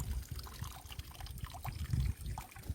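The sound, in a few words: water trickling out of fishing net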